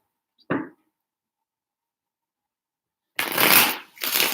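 A short riffle of tarot cards, then silence, followed by a longer, louder burst of tarot card shuffling close by.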